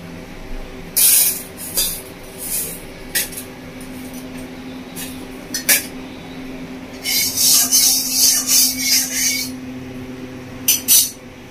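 Black urad dal frying in a hot pan for a Bengali chicken kosha, a steady low hiss with bursts of sharper sizzling and crackle that swell and fade, the busiest stretch coming late, no voices.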